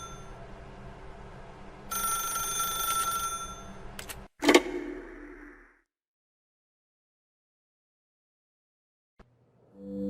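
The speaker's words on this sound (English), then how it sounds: "Pick up the phone and it will take us back home" A telephone bell rings in the video game The Stanley Parable Ultra Deluxe, a steady ringing for a couple of seconds followed by a sharp click and silence, with no voices.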